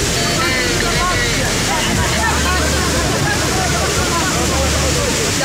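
A waterfall at the Bantimurung bathing place rushes in a loud, continuous roar throughout, with rescuers' voices mixed into the noise during the recovery effort.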